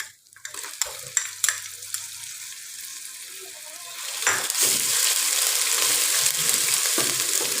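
Garlic sizzling and frying in a hot pan with onions, with utensil scraping and stirring sounds, growing louder and steadier after a few seconds.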